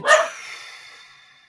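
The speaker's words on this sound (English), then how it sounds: "there goes my dogs" House dogs in Alamosa give a single sharp bark up close, which rings out and fades over about a second.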